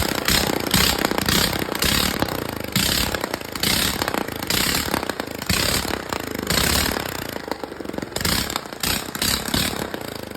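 Close and loud, a Predator 224 engine with its muffler off barks and rattles in a Coleman SK100 go-kart, revving in rapid uneven pulses with a harsh clattering exhaust throughout.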